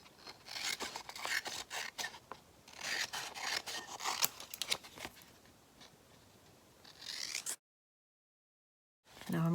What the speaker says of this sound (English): And just cut this with the scissors.